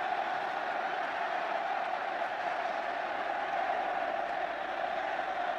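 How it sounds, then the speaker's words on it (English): Stadium crowd at a 1983 England versus New Zealand rugby test match, a steady, loud sustained roar of support with no breaks across the whole stretch. "What a roar of support from the crowd."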